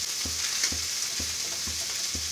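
Eggplant and neem leaves fry in a pan over a raised gas flame, a constant bright sizzle punctuated by about five evenly spaced low stirring knocks, close up with no voices.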